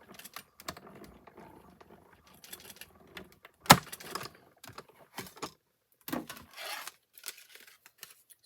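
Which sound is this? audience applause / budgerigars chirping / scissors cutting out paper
scissors cutting out paper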